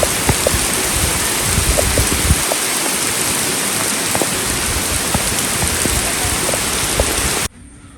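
Heavy rain pours down steadily and loudly, a dense hiss of drops pattering on surfaces close by with no voices, until it cuts off abruptly just before the end.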